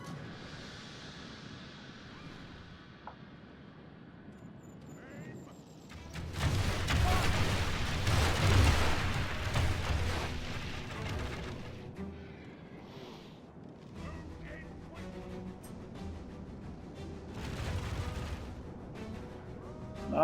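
Marksmen firing volleys in Third Age Total War Reforged at the Grey Havens, a dense crackling barrage of distant shots that swells and then thins into scattered reports over a low battlefield rumble.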